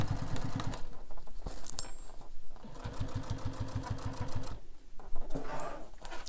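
Close sewing machine back stitching through darker fabric in short bursts, the needle's rapid chatter stopping and starting with brief pauses between runs of stitches.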